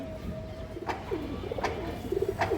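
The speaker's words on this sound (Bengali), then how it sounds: "একটা তোতা মাদি কবুতর আছে, দেখেন আপনারা একদম ফুল তোতা একটা মাদি কবুতর।" A Tota-type female pigeon from an old pedigree line coos close by, soft bubbling rolls repeated over a steady background hum, with no talking.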